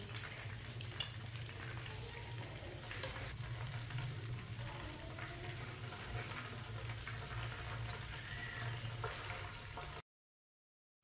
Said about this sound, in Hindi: ये देखिए कितना अच्छा फ्राई हुआ है